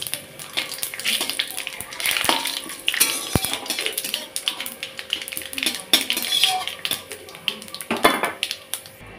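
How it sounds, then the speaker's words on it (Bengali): Whole bay leaves, cumin seeds and cinnamon frying in hot oil for a tempering, with crackling, spitting and clinking of utensils against a pan, sounding close and busy throughout. "তো দিয়ে দিচ্ছি গোটা তেজপাতা, গোটা জিরে, দিয়ে দিচ্ছি দারচিনি"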